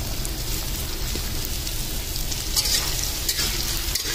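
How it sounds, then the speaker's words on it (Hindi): Sliced onions fry in oil in a kadhai over a gas flame, giving a steady, loud sizzling crackle that continues evenly throughout with no talking. "पहले प्याज को सेक लेंगे थोड़ा तेल डाल के।"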